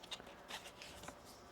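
Tarot cards are shuffled by hand in soft, quick riffling bursts, close and fairly quiet, with no talking.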